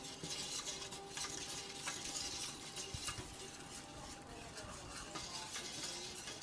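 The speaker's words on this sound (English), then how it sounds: "just sprinkle it in, sprinkle it in. And then whisk immediately, so all those flour granules get coated and you don't have lumps" A whisk stirring flour into a roux in a pan makes a steady, faint scraping and sizzling, continuous and fairly close.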